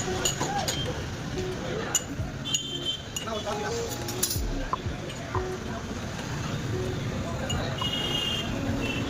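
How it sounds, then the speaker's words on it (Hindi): Sugar goes into a glass for South Indian-style tea at a stall in Delhi, with light clinks of a spoon against glass over a steady background hum of activity. "पहले चीनी डालते हैं इधर पहले गिलास में।"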